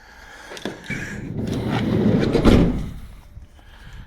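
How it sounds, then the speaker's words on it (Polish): The sliding side door of an Opel Movano / Renault Master van being pulled shut: a rolling rumble that builds over two seconds to a heavier thud near the end, close by, with no speech. "Zasunę sobie drzwi."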